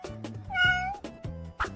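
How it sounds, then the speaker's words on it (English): A cat meows several times in a row, clear and fairly close, with one longer drawn-out meow in the middle and short calls before and after it. "It's a cat."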